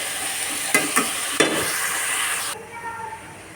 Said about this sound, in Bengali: আমি এখন ভালো করে এটা ভাজা ভাজা করে মশলা দিয়ে ঝোল দিয়ে দিয়েছি।